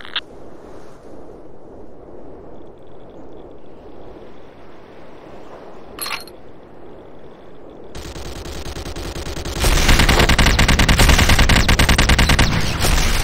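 Rapid automatic gunfire attacking a harvester in the real-time strategy game Renegade, starting as a low rhythmic pulsing and swelling into a loud, dense, sustained burst of firing.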